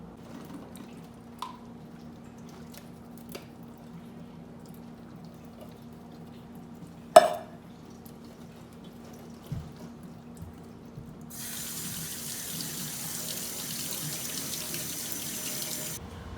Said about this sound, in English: A quick tip is you're going to want to strain your beans.